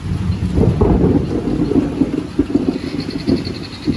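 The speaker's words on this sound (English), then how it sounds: "Thunder, lightning, thunder" Low thunder rumbles and rolls steadily through a storm, loud and continuous for several seconds, with wind and rain noise mixed in and no talking.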